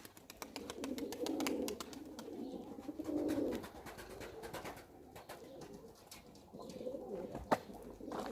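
Pigeons cooing close by in repeated low throaty bursts, with scattered clicks, flutters and small knocks around them and no talk.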